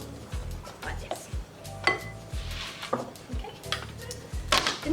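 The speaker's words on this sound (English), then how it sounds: "So I'm just going to mix that in place and just stir that." Lemon juice being stirred by hand into a lemon drizzle cake mixture in a bowl, with intermittent scraping and clinking of a utensil against the bowl, close and moderately loud, while a person talks over it.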